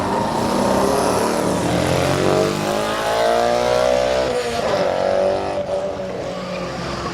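Race cars roar around a speedway oval in a sustained, loud engine drone, with pitch rising and falling as cars accelerate and pass, under a steady crowd-and-track wash.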